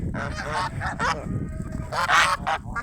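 Several geese honk loudly and repeatedly close by, their calls overlapping in a noisy flock chorus, outdoors in winter snow.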